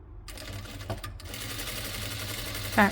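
A sewing machine stitches a yoke neck pattern, a steady low mechanical whirr running close and continuous, with a brief louder burst near the end.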